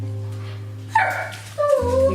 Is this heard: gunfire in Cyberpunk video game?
no